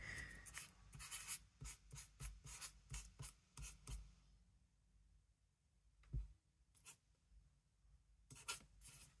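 A pen writes out a band name on paper in a series of quick, scratchy strokes, heard close and quiet. A brief pause falls midway before a few more strokes, with no talking.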